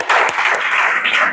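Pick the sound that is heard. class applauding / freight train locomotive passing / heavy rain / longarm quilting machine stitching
class applauding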